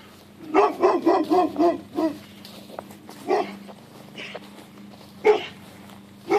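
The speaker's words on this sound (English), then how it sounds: "Big dog." A big dog barks repeatedly in bursts in a woodland, fairly close, with short pauses between volleys and a low steady hum beneath.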